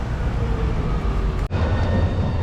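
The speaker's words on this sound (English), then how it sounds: "The tram just going past there." An Edinburgh tram rolls past close by, a steady loud rumble with a brief sharp clunk midway, then the low drone continues with no talking.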